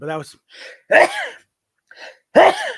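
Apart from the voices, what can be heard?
sneeze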